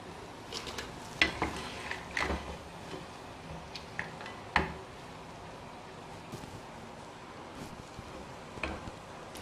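Chapati pieces deep-frying in hot oil crackle and sizzle steadily, with irregular sharp pops and spits scattered over a continuous hiss, close and moderately quiet.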